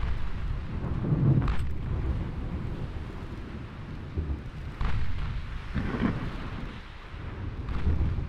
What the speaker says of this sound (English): Thankfully our secondaries are still firing